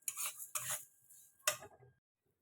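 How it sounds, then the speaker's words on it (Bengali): Moong dal being dry-roasted and stirred in a pan for vegetable khichuri, heard as a few close scraping, rattling stirs of spoon against the pan in short bursts, separated by quiet gaps. "আমি এবার মুগের ডালটাকে ভেজে নেব, লাল করে একটু ভেজে নেবো"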